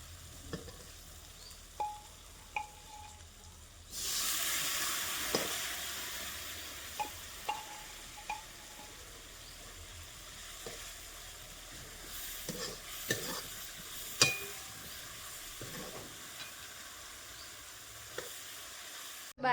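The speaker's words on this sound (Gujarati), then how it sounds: "તો ચાલો પહેલાં વઘાર કરી દઉં મેં।" Spices and vegetables hit hot oil on a stove for a tempering, bursting into a loud, steady sizzle that holds for about fifteen seconds, with a few sharp clinks of a utensil stirring the pan, close up and with no talking.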